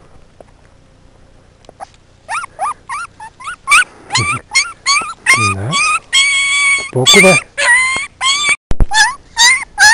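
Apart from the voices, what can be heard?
puppy whimpering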